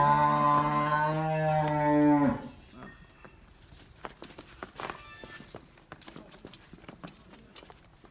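A Nili-Ravi buffalo on a farm gives one long, loud, harmonic low moo lasting about two seconds, followed by scattered hoof steps and shuffling movement nearby.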